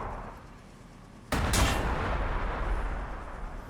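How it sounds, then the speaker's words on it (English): A basic rocket fired from an Ork aircraft in a Warhammer 40,000 video game goes off as one sudden, loud blast. A rushing roar follows and fades slowly over the next few seconds. "we'll just launch our basic rocket here"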